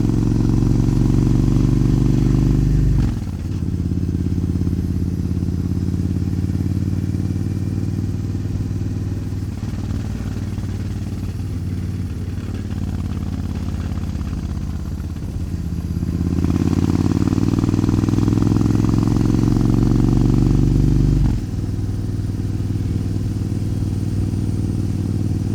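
Suzuki Intruder motorcycle riding on rural roads, its engine droning steadily with rising and falling revs through gear shifts, close and loud with wind rush, no talking.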